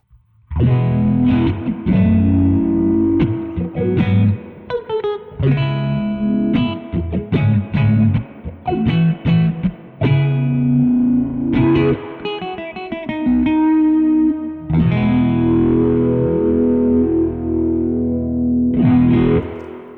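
A distorted electric guitar plays chords and notes through an Old Blood Noise Float dual moving filter pedal with both filters on falling sawtooth, sweeping repeatedly for a rhythmic falling wah-like modulation, loud and alone.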